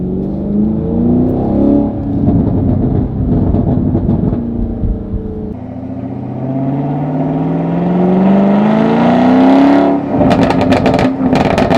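A 2024 Chevrolet Camaro SS 1LE V8 with a manual gearbox revs hard, pitch climbing through the gears with a brief drop at a shift, then rising again to a loud roar.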